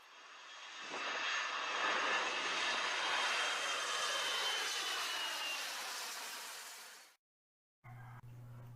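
A loud, steady airplane engine roar at NAIA airport, broadband and sustained for several seconds, then cutting out abruptly, followed by a brief low hum.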